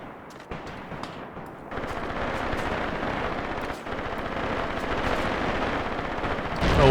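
Rapid gunfire crackles through a Graviteam Tactics battle, dense machine-gun bursts and scattered single shots rolling on continuously at mid distance, with a louder crack close by at the end.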